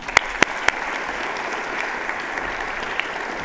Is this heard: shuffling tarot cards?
no